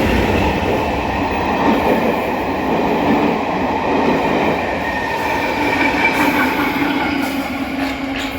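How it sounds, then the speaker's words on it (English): Metropolitan Line electric locomotive Sarah Siddons, in service from around 1923 and over 100 years old, running loudly and steadily with a continuous rumble, rail clatter and faint wheel squeal, no talk. "locomotive which is nicknamed Sarah Siddons, named after a Welsh actor from the 18th century, which would have ran on the Metropolitan Line from around 1923"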